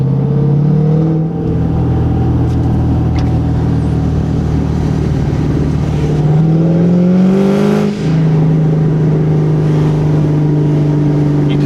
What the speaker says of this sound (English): And the exhaust sounds awesome.